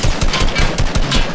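AK assault rifle firing in the video game Fortnite: a rapid, loud burst of shots in a steady rhythm about five per second, close and dominant with no talk.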